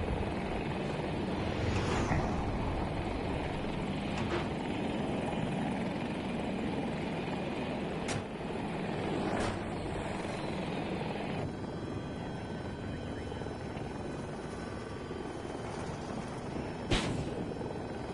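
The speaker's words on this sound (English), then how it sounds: "I can't deal with that helicopter" Helicopter in the video game Battlefield 2042, a steady rotor and engine drone that fills the scene throughout, fairly loud and close, with a few sharp transient clicks over it.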